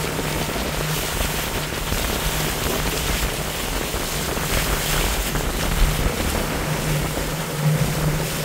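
Boat drifting out on Saginaw Bay on a calm, beautiful day with waves only an inch or two high: a steady, unbroken wash of water and wind noise, fairly loud and close, with no voices.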